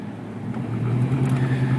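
A 1980 Pontiac Trans Am pulls away for a drive around the block, its engine rumbling low and building steadily louder as the car moves off, close by and with no voices.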